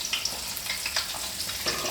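Green chillies sizzle and crackle in hot oil, a steady bright frying hiss with small pops, close and alone.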